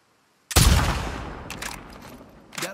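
A single loud gunshot from The Last of Us Part II cracks out close and sharp, fired at a red sign, then rings and decays into a long reverberant tail, with a few faint later clatters.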